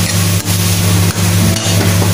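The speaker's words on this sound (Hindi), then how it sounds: "और थोड़ा ही भूनेंगे इसको बहुत नहीं भूनना है सब्जियों को" Vegetables for pasta are stir-fried in a pan, giving a loud, close, continuous sizzle, a steady low hum and a few brief scraping stirs.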